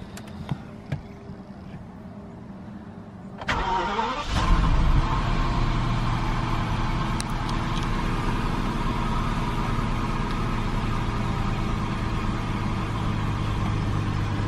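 A BMW 760 Li engine being fired up after a fuel injector cleaner treatment: a quiet start, then the starter cranks, a brief flare of revs, and it settles into a smooth, steady idle.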